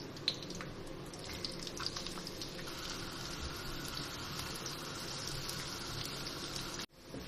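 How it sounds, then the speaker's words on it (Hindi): Sliced onions fry in about a cup of hot oil for biryani, giving a continuous close sizzling hiss with small pops, steady throughout before a brief break near the end. "अब मैं इसमें प्याज डाल रही हूँ फ्राई करने के लिए"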